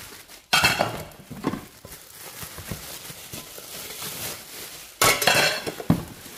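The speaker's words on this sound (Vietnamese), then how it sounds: "Nắp vung này. Để em bỏ ra ngoài đã nhé." A metal pot lid from a Japanese domestic gas stove set is lifted off and put aside, giving two bright clattering clanks several seconds apart with softer scraping and handling noise in between.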